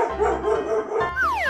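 A dog's bark rings out briefly, close and clear, with a rising whistle-like tone sweeping in at the end.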